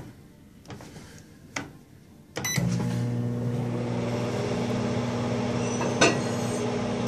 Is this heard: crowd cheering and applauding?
no